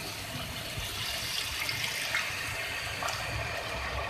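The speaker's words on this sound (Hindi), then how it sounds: "इसके साथ ही मैं इसमें ऐड करूँगी वाटर।" Water poured into a pot of chicken curry, a continuous splashing gush of liquid at close range without any talking.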